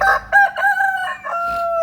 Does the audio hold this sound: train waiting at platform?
no